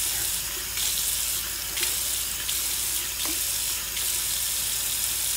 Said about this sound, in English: See, that's how the water goes all the way through now.